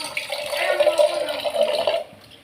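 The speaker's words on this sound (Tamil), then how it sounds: "இதில் தண்ணி ஊற்றிக்கிறேன்" Water is poured from a vessel into a cooking pot for a dry fish kulambu, a gurgling splashing stream that runs steadily for about two seconds before stopping.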